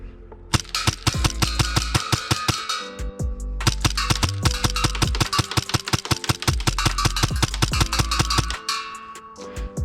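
A custom Hi-Capa gas airsoft pistol fires rapid full-auto bursts, each string a fast run of sharp, loud cracks close up, separated by brief pauses.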